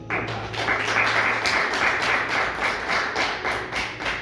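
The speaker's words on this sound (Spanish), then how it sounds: "¿Se anima a dar un aplauso a la palabra de Dios?" Congregation at a church service claps together, a dense, steady round of hand claps with faint rhythmic accents, fairly close and sustained throughout.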